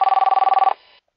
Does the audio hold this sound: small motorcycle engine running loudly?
no